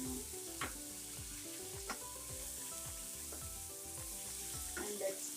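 Bitter melon, eggs and corned beef sizzle steadily in a pan while a utensil stirs and scrapes with repeated soft knocks, close up and with no talk.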